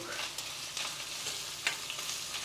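Dried red chillies crackle and sizzle steadily in a hot pan while a rasam is being made, a close, continuous frying hiss with faint stirring clicks.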